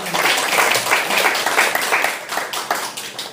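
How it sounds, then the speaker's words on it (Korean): A church congregation applauds during a Sunday service, a dense, steady wash of many hands clapping that tapers slightly near the end. "오늘 우리 수고하신 우리 영래형제에게 한번 박수를 한번."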